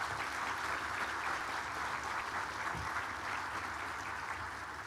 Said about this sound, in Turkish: Aramızda bulunan fidanlık çocuklarını alkışlamanızı istiyorum